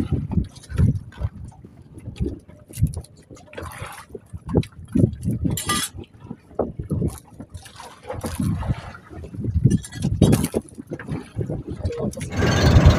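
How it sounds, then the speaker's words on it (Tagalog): A strong water current churns and slaps around a small fishing boat near an island, in irregular loud surges mixed with gusty wind buffeting the microphone, and someone talks intermittently. "Lakas ng agos mga idol."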